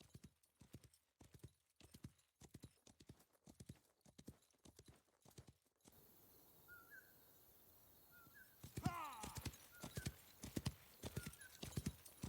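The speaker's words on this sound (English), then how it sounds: "just a horse clopping its way around the map" Horse hooves clop in steady rhythmic pairs in the video game New Frontier, crisp and close, first alone in silence, then over an outdoor ambience with birds calling and a horse's whinny.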